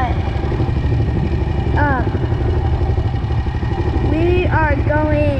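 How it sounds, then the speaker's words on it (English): Motor vehicle engine revving and idling at a beach before heading onto sand dunes, a loud steady engine drone throughout, with faint voices over it. "I don't know if you can hear me from the revving of the motor"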